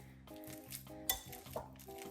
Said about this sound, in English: So have the very overripe bananas and now, just gonna mash it.